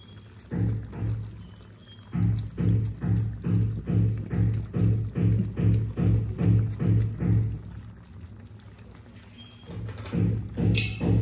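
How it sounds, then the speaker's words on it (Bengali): Pabda fish in a cauliflower and potato curry gravy is stirred gently, giving a close, steady series of soft, regular sloshing strokes that pause briefly and then resume. "আস্তে আস্তে আমি এটাকে নেড়ে দেব। মাছগুলো যেন ঝোলের মধ্যে ডুবে যায়।"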